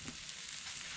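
Steaks sizzling on a charcoal grill, a steady, quiet hiss and crackle of fat with no pauses and no one talking.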